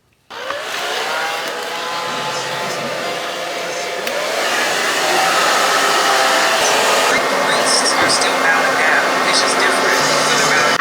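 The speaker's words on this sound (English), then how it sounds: "we're just gonna have to go back under the dryer" A hooded salon hair dryer runs with a loud, steady whooshing roar that starts abruptly and grows slightly stronger, continuing unbroken at close range.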